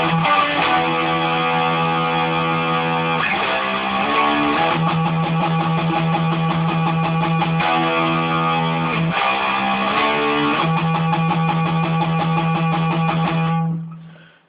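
Electric guitar plays the riff sequence twice, with pulsing eighth notes on E broken by quick chord changes, loud and sustained and with no talk over it.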